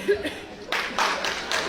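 A comedy show audience bursts into clapping to answer a performer's question, starting after a short murmur and chuckle, then a loud burst of applause that fades slightly and swells again.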